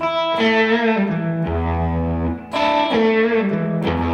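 A distorted electric guitar plays a repeating blues phrase, with chords and bent notes that ring out, a brief dip, then the phrase starts again.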